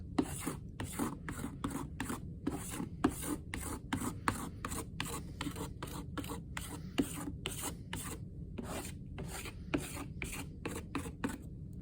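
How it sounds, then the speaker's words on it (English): A squeegee dragged over an engraved plastic sheet to spread ink, giving a quiet close series of rhythmic scraping, rasping strokes, regular and repeated with no talk over them. "So the squeegee is going to spread the ink out."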